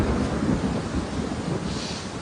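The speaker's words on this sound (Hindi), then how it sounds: "और फिर ये बारिश" Steady rain with a low thunder rumble in a Hindi horror audio drama, a dense wash of noise filling the whole stretch at an even, moderate level with no voices over it.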